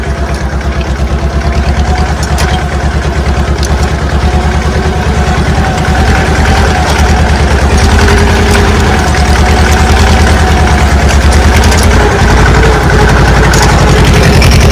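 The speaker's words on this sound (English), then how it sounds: "use the tractor, but you can see I'm going real slow and I got the disc barely down and I'm kind of just rolling the dirt" Tractor slowly dragging a disc set barely into the dirt of a food plot, a steady low diesel engine rumble with a pulsing rhythm, close and constant with no talk.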